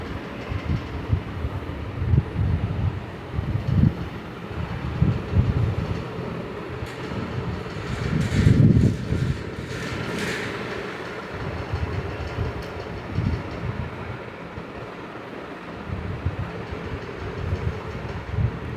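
A sewing machine stitches the half-inch, then quarter-inch folded hem of an umbrella gown in a steady, fairly quiet mechanical chatter, rising and easing in short runs across the whole stretch.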